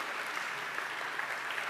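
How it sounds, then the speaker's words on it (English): Audience applause at an evening exhibition event, a steady wash of clapping from a crowd heard at moderate distance, sustained evenly without voices on top. "let me clap for you"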